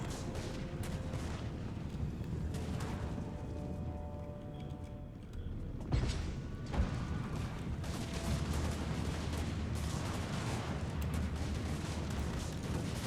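Battle in Total War: Warhammer 2 with continuous gunfire and booming artillery volleys rolling together. A sharper, louder burst of blasts comes midway, over a constant dense rumble.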